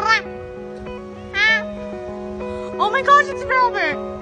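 A domestic cat, found on a walk after five weeks missing, meows close by in several drawn-out calls separated by pauses, with the last cries coming in a quick cluster.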